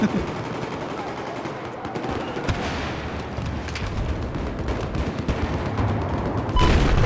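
Battlefield 4 combat: dense, continuous gunfire with bursts of automatic fire and booming explosions over a constant noisy battlefield rumble, with faint voices now and then.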